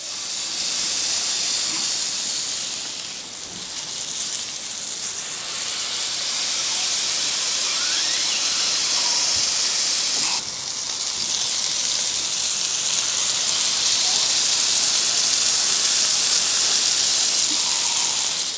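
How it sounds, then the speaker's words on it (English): Smash burgers and onions sizzle on a hot griddle, a loud broadband hiss that runs unbroken throughout, with brief faint scrapes of a spatula and no talking. "Get those onions griddling up nice. We can get the burgers on."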